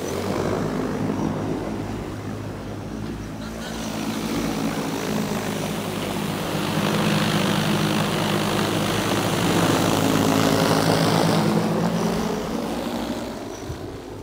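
A J100 drone flies with its propellers whirring in a loud, steady droning hum that swells and eases slightly as it travels, with no talking over it.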